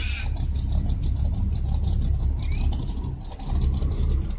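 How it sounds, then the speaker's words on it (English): A cold 1974 Chevrolet Impala engine idles roughly and unevenly, a loud, close, low rumble that stumbles as if about to stall. "Car's a little bit cold, man, so sounds like it's about to turn off or something"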